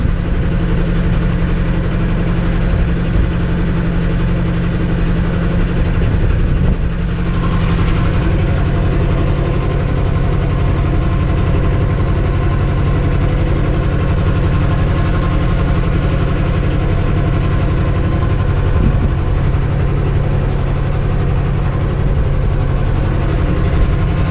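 A steady, droning boat engine runs continuously at close range with its hatch open, a low mechanical rumble with a faint rhythmic knock, no voices.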